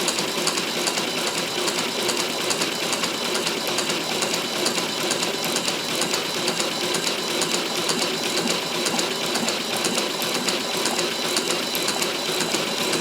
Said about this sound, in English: I have to hold the printer down, it shakes so much, so heavy.